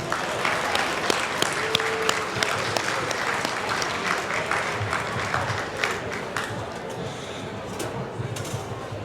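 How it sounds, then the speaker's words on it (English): An audience at a Warren County Lincoln Reagan Dinner applauds the band, dense sustained clapping from a roomful of people, steady and fairly loud throughout with no talk over it. "can we just get a round of applause for the band real quick"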